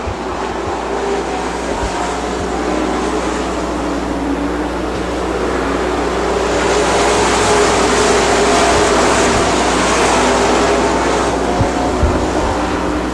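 Race cars at Dixie Speedway, a dirt track, roar as a loud, continuous engine drone across the whole stretch, swelling midway as the pack comes down the front straightaway, with no voices.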